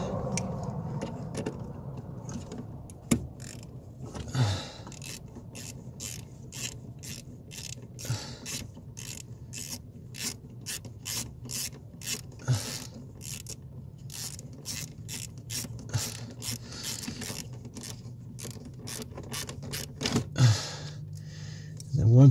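A 7 mm ratchet wrench working bolts off a 1994-2004 Ford Mustang steering column, heard as a long run of rapid, regular ratcheting clicks close to the mic, with occasional mechanical clunks and faint background noise.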